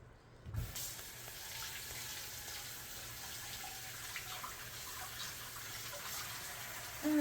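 Sweet potatoes washed under a running kitchen faucet: a steady, close gushing stream of water with faint handling sounds, continuous and alone after a brief opening thump.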